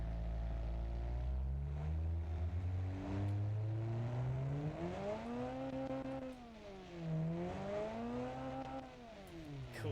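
A car engine in a car-building video game revs up and down in long swelling sweeps, steady and droning without any talk.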